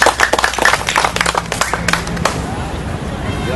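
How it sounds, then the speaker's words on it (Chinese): A church congregation in Taichung clapping in welcome, a burst of rapid applause from a small crowd that fades out after a couple of seconds, with a voice speaking around it. "那我们现在就用很热烈的掌声哈"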